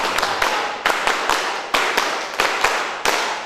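A group of Hizbul Wathan scouts clapping the 'tepuk pandu' pattern in unison, sharp claps grouped in a repeating rhythm of short bursts, loud and close with no voices.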